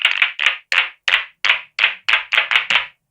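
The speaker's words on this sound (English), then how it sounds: "Clap sounds are often, they have a large number of hits in a very short time." Synthesized claps from a drum synthesizer, about ten sharp snappy hits in a steady rhythm with short gaps, each a dense burst of tightly packed smacks, close and loud with nothing else around.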